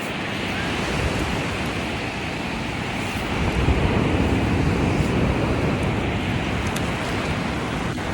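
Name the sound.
ocean waves at Nacpan beach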